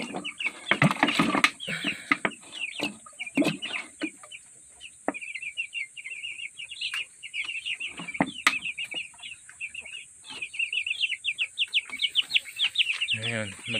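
Chickens in a homemade DIY cage cluck and squawk continuously in a busy chorus, with occasional wing flaps and clatter, and a person speaks briefly over them.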